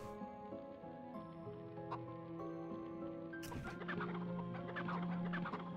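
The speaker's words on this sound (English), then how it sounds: "Come on, chickens, eat the food." Chickens cluck in the MediEvil PS1 video game, short clucks scattered over steady game music and ambience, fairly close and moderately loud.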